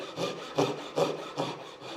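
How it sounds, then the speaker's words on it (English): Japanese pull saw making relief cuts in pine: four or five quick rhythmic rasping strokes, close and clear, with no talking. "doing a few little relief cuts to help relieve that material"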